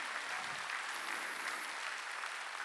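Congregation applauding during a Sunday church service, a dense, even wash of clapping that is fairly quiet and continues for under three seconds without talk.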